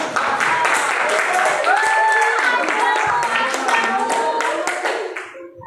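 Hands clap in a steady, moderately loud patter from a group of teenagers, with voices and laughter mixed in throughout before the clapping tapers off at the end.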